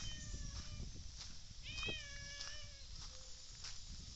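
A cat meows several times in a row, drawn-out tonal cries close by, over a low rumbling background.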